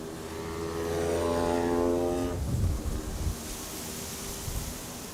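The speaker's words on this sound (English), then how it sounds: "KLM flight 1826, German Airways, arriving from Stuttgart." A KLM Embraer 190 arriving at Amsterdam Schiphol from Stuttgart on a windy stormy day, its engine roar swelling with a steady tonal whine, then sweeping past and fading into wind and rumble.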